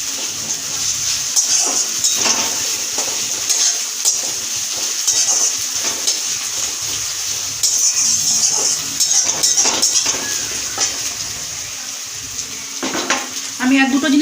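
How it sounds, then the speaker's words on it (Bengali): Garlic sizzles and fries in a pan alongside golden-browned onions, a steady close crackle broken by scraping stir strokes and occasional clinks of a utensil against the pan. "এর মধ্যে এবার আমি রসুনটা দিয়ে দিলাম। রসুনটা দিয়েও আমি এরকম ভাজবো।"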